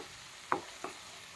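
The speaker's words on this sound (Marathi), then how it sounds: "तर मिक्स करून घेते छान." Green tomato chutney is stirred in a pan, with two quick scraping strokes of the spoon over a soft, steady background hiss.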